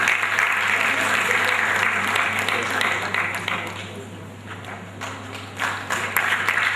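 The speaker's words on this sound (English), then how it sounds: "Please a round of applause, please." A crowd claps steadily at the annual lecture of the Nigerian Institute of Quantity Surveyors, a dense, sustained applause from a large audience with a low hum beneath it that dips briefly midway, then swells again.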